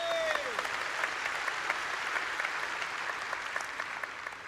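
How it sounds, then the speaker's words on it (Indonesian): A church congregation at an Indonesian service breaks into sustained applause, a dense crowd of hands clapping continuously for several seconds and easing slightly toward the end. "Beri tepuk tangan buat Tuhan."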